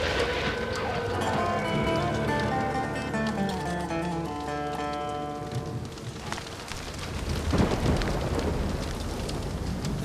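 Rain patters steadily throughout, mixed with a low rumble and some clattering, tonal sounds fading out midway.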